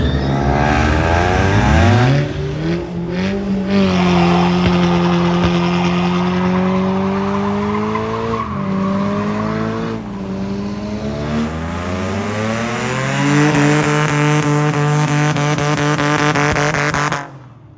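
A car does a burnout at a street car meet, engine roaring loud and steady with screeching tire squeal for about sixteen seconds, the pitch of the revs rising and falling, with a blow-off valve hiss in the mix.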